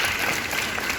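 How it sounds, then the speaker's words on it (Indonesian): A short burst of audience applause in a sales presentation for a new housing cluster, with brief, dense clapping that fills the room evenly. "tepuk tangan dong buat kita semua"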